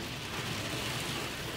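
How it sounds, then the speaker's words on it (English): A self-serve car wash sprayer on a D&S 5000 system blasts plain water, a steady, loud broadband hiss of spray holding evenly for the whole moment with no talk. "Looks like I'm just getting water"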